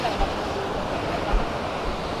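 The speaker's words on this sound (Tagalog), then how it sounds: "andito na tayo sa Awaw Falls, yung pangalawang falls na tawag nilang Awaw Falls 2" Awao Falls 2 waterfall in Monkayo, Compostela Valley, a steady broad roar of falling water, loud and close, with a few low buffets of wind on the microphone.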